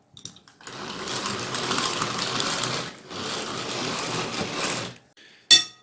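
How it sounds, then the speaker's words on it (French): An electric mixer whips egg whites into stiff peaks for a bûche. The motor whirs steadily in two long runs separated by a short pause, with a light knock at the end. "Ensuite, on bat les blancs en neige bien ferme."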